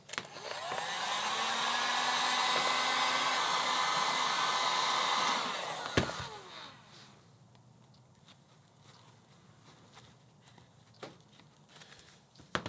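A heat gun blows loudly and steadily on foam pieces for a prop build for about six seconds. A sharp click follows and the airflow drops to a softer hiss with light handling noises.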